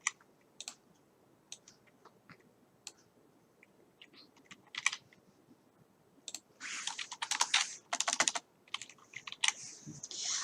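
Computer keyboard keys tapped sparsely at first, then in a denser, louder flurry of clicks near the end, as Alt and Print Screen are pressed on a Windows PC; close, with no talking.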